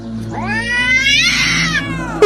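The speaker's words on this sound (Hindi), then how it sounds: "अरे बाप रे, एक काले बिल्ली।" A black cat lets out a loud, close, drawn-out yowl that rises and wavers for about two seconds before breaking off in a sharp final burst.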